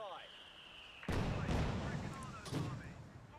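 Mortar pits firing white phosphorus in the strategy game Company of Heroes 2, heard as two loud, heavy booming bursts a second apart, then a third, each with a rumbling tail over steady battlefield ambience.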